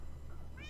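Short cat meow rising at the very end, faint over steady background noise and low hum, heard as gameplay commentary on a building contest animation plays.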